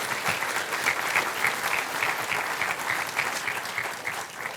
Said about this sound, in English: Please join me in a big applause for hosting us in these magnificent conditions.